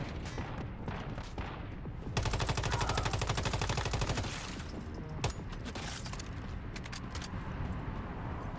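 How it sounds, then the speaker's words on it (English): In the survival shooter Once Human, shots come from a far-off gunman high above, heard as scattered cracks, then a dense burst of rapid automatic fire, then more sporadic reports over low ambient noise. "There's still somebody way up there shooting at me."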